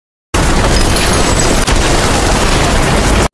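A loud, dense explosion from an action film about a legendary gunman fills the whole stretch after a brief silence, a roaring broadband blast with a short dip midway, then continuing rumble until it cuts off.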